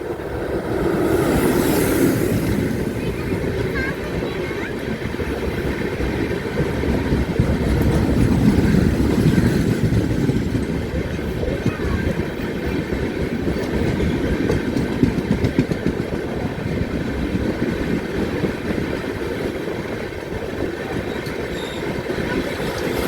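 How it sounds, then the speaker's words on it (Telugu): Train approaching and passing on the Venkatadri Express line near a station platform, a loud continuous rumble of wheels and engine swelling toward the middle and lingering with faint clatter, no voices. "ఏదో ట్రైన్ వస్తుందండి, ఏం ట్రైన్ చూద్దాం."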